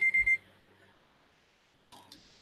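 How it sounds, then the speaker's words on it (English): A kitchen-style timer alarm rings in three rapid loud beeping bursts at the start, then quiet follows with a brief sharper electronic beep near the end; no talking. "That timer is probably loud as heck to y'all."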